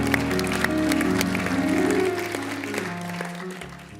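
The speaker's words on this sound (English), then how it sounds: "Give yourselves a round of applause." An audience at a Good Friday gathering gives a round of applause, a broad wash of clapping over sustained musical tones that fades away after a couple of seconds.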